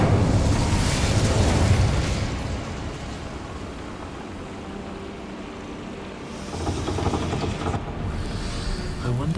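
Incendio fire spell cast in the Hogwarts Legacy video game: a loud roaring burst of flame at the start, dying down, then a second fiery whoosh flaring up near the end.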